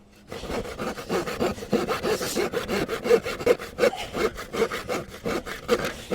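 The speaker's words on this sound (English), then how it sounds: "So why don't I cut the wood with my left hand like what I'm doing?" Hand saw cutting through wood, a steady run of rhythmic back-and-forth rasping strokes, close and fairly loud, with no voices.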